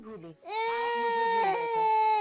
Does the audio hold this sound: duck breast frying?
no